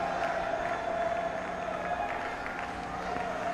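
At a cricket match between India and the West Indies, a stadium crowd applauds Virat Kohli reaching a century, a distant, faint, steady wash of clapping and crowd noise.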